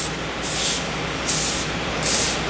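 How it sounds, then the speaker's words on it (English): Three quick hissing bursts of non-stick cooking spray onto muffin papers, each short and close, separated by brief pauses. "And I like to spray mine."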